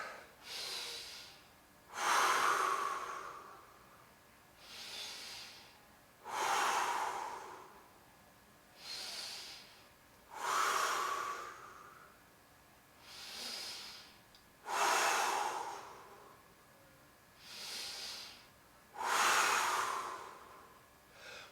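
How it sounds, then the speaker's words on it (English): Deep, forceful breaths held through a side plank exercise, eight or so loud close breaths, each a rushing inhale and exhale lasting a second or two, spaced evenly with short quiet gaps between them. "give me 5 big breaths."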